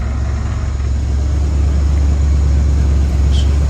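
A Ford F-100 pickup truck's engine idles steadily, a loud, close, low rumbling drone with no voices over it.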